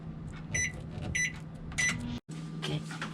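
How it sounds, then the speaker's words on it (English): A microwave oven warming sugar hums steadily while several short, bright beeps sound in clusters, followed by a brief clunk and silence before the hum resumes; no talk. "just put in the microwave for 20 seconds or so"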